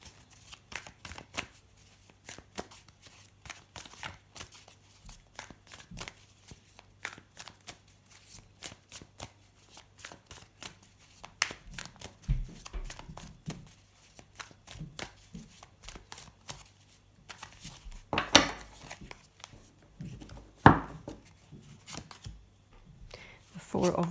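Tarot cards are shuffled by hand in quick crisp riffles and flutters, close and fairly soft, with brief pauses between bursts and a low steady hum underneath.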